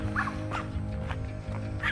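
Dogs at a neighboring campsite in a Georgia state park campground bark a few times in short, separate yelps at moderate distance over a steady low hum.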